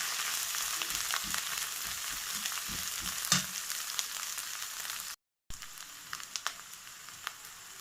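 Ginger and garlic paste frying in a pan, a continuous bright sizzle with occasional stirring scrapes and pops, close and steady, briefly cutting out before resuming.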